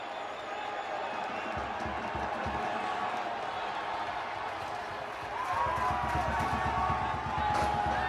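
A stadium crowd at the men's soccer College Cup final between UW and NC State keeps up a continuous roar that lifts and thickens in the second half, with rhythmic thumping beneath and no clear speech.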